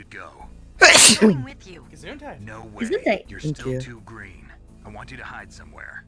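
A loud, close sneeze bursts out once near the start of a Metal Gear video game scene, followed by character voices talking back and forth.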